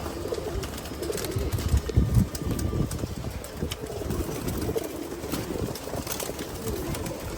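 Pigeons cooing inside a pigeon farm, a dense overlapping chorus of low coos from many birds, steady and moderately loud against a constant background hum.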